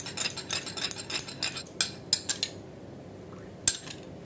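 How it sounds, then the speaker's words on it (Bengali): A spoon stirs soy sauce and tomato sauce together in a small bowl, giving a quick run of close scraping clinks against the dish for about two seconds, then quiet, with one last clink near the end. "এবার ওই 1 চামচ সয়া সস আর টমেটো সস ওটাকে একটু মিশিয়ে নেব।"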